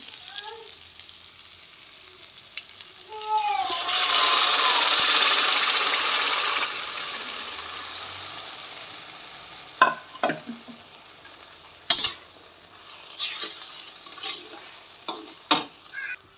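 Spices hit hot oil with a sharp sizzling burst that fades, followed by scattered clanks of a spoon stirring in the pan; a voice speaks briefly at the start. Tempering for millet (bajra) khichdi.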